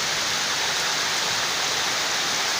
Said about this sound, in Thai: ฝนตก ฝนตกไม่มีฟ้าไม่มีอะไรเลยมีแต่ลมมาอย่างเดียวเลยครับ